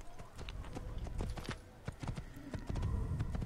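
A horse gallops in the video game Assassin's Creed, its hooves pounding in a quick, uneven clip-clop rhythm over a dense game soundscape, fairly quiet overall.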